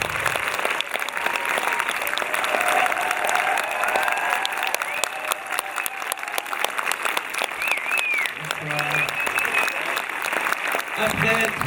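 Enthusiastic audience applause at a cinema event welcoming film directors, a continuous, loud roll of clapping from a crowd with some cheering and voices mixed in throughout.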